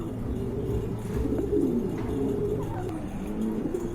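A pair of golden shocking pigeons coo nearby in low, repeated throaty warbles over a steady background hum, with faint voices in the surroundings.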